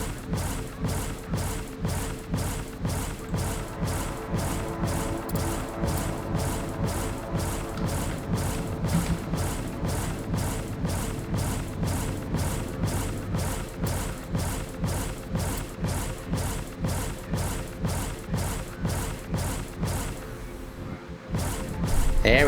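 A ship's weapon in the space game Starminer fires automatically, a long, steady series of evenly spaced thumping shots, about two per second, loud and close, stopping abruptly near the end.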